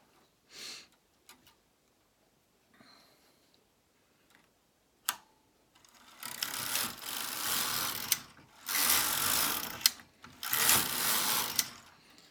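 Needles on a knitting machine being pushed back, making a few faint clicks and then longer bursts of loud rattling mechanical sliding that start and stop, close by.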